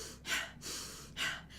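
Quick, shallow breaths drawn and released close to the mouth in a soft, breathy rhythm, demonstrating shallow chest breathing, three airy bursts alone with no talk.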